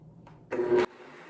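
A blender whirs in one short loud burst, blending vegan mayonnaise ingredients, preceded by a brief click and quiet room tone.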